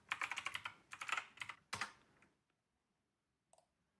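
Rapid bursts of typing on a computer keyboard while an n8n IP address is entered into Firefox, close and crisp, then the keys stop and one faint click follows in near silence.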